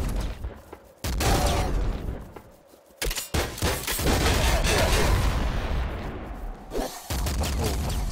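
Rapid gunfire from the video game Nuclear Throne, dense loud bursts of shots running almost continuously with brief pauses and booming impacts.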